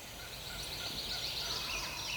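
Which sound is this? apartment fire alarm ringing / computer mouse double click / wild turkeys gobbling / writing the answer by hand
wild turkeys gobbling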